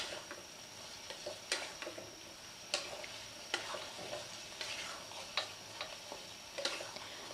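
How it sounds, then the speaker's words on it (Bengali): A mustard and poppy seed paste fries over a high flame for a Bengali bottle-gourd-greens dish, a low sizzle broken by regular sharp scraping taps of a spatula stirring the pan. "হাই ফ্লেমে করে একটু নেড়ে নেব।"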